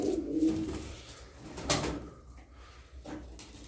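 White Adana pigeons coo in soft, low murmuring calls among a flock, faint and somewhat distant, with an occasional flutter or knock.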